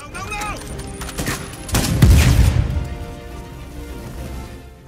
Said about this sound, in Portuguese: Saindo uma granada.